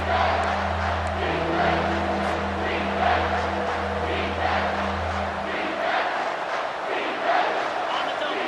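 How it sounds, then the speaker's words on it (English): A packed home stadium crowd roars through a third-down play at a Georgia versus Alabama college football game, a broad, sustained cheer with a steady low hum underneath, while a commentator talks over it. "Here comes this home crowd as the defense tries to get off the field on third down."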